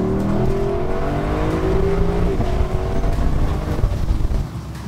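A 2021 Lexus LC500 convertible with its 10-speed automatic: close, loud engine revving with rising and falling pitch and quick throttle blips on the downshifts, then settling lower as it eases off.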